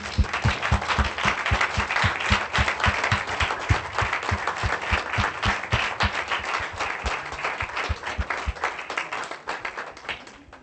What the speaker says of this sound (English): if we could all please stand and give him a round of applause